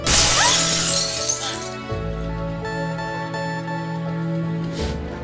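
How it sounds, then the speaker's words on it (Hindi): A car window's glass shatters loudly at the start, then scattered shards tinkle and settle as a sustained musical drone carries on underneath. "पहली बार तेरी गाड़ी का कांच तोड़ा था,"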